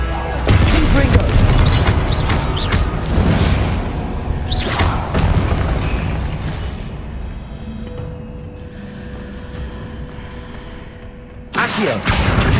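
A spell blast in Hogwarts Legacy, the Confringo curse: a loud booming explosion up front with crashing thuds, fading into a rumbling tail before another impact near the end, with a voice over it.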